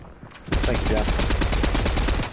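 Rapid bursts of automatic gunfire in Fortnite crack out loudly and continuously after a brief quiet lead-in, a dense unbroken volley with no talk over it.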